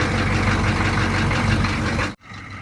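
A GMC G30 short bus fitted with an aftermarket exhaust runs its engine close by, a loud steady rumble that cuts off abruptly near the end, leaving a quieter low hum.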